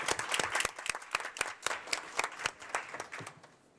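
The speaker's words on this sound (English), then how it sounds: "let's give them a rousing round of applause" Applause at a school board of education work session, scattered individual claps rising out of a moderate, somewhat sparse crowd, heard alone without talk and fairly distant in the room.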